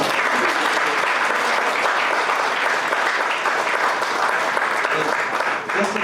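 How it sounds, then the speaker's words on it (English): Audience applause fills a 2021 graduation ceremony hall, steady dense clapping from a large crowd that holds for several seconds before easing slightly near the end. "You can clap, you can clap."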